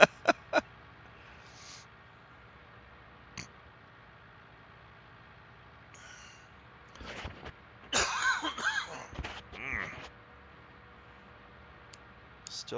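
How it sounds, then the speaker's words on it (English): Several short coughs from someone recovering from a cold, sharp bursts near the start and a louder cluster in the middle, over a low steady hum of a farm game running in the background. "Still got a little bit of a cough"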